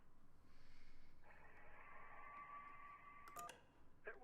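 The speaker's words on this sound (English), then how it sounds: "That was a phone ringing underwater." A phone rings underwater in the video game Kentucky Route Zero: a muffled electronic warble with a sustained tone, then a short burst of clicks and a brief blip near the end over a murky, steady hum.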